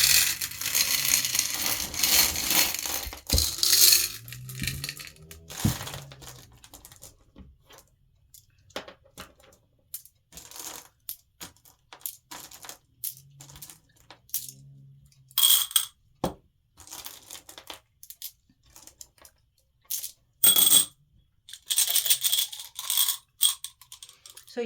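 Glass decorative pebbles for a mini lantern arrangement are poured out, clinking and rattling in scattered bursts with quiet gaps between handfuls, near and crisp.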